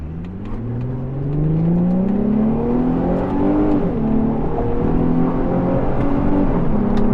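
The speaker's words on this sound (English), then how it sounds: "This engine, wow, it sounds really good." The engine of a Nissan 350Z Cabriolet revs while driving, its steady drone climbing in pitch as the car pulls, then settling into a constant, loud hum heard from inside the cabin.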